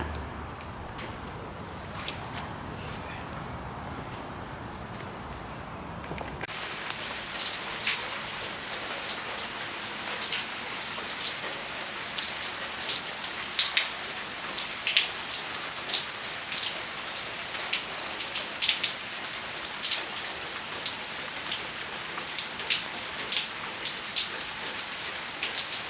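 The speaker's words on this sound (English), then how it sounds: "This morning we woke up to it raining really, really good." Steady rain falls hard in the morning, a soft patter that swells into a dense, loud downpour after the first few seconds and continues with scattered close drips, with no talking.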